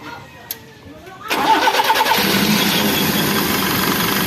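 A Toyota 3A-U car engine cranks briefly and then fires up, settling into a loud, steady idle after a quiet pause and a single tap.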